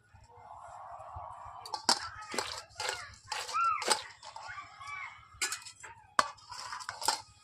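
A spoon stirring pulao rice in a metal cooking pot, irregular scraping clinks and knocks against the pot over a low steady hum, moderately close, with no talking.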